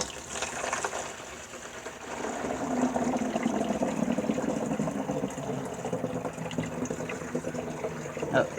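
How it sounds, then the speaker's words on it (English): Warm herbal tea is poured through a funnel and strainer into a plastic bottle, a continuous trickling, gurgling flow close by with a faint voice underneath. "I'm going to strain it again with this funnel and this strainer."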